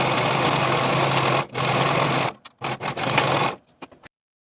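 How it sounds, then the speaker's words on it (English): Sewing machine stitching sleeve underarm seams on a cowl neck sweater, a loud close mechanical whir in two long runs, then short stop-start bursts before it falls silent. "And then sew those seams with a 5/8 inch seam allowance."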